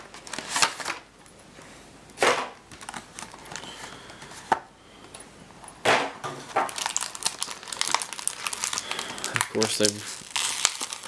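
Tightly packaged Yu-Gi-Oh War of the Giants Round 2 booster box being torn and wrestled open, bursts of crinkling foil and plastic tearing in irregular clusters, with someone talking briefly.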